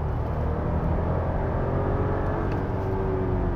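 An Audi Q8 SUV accelerating, a steady, continuous engine and road rumble that holds at an even level throughout, with no talking.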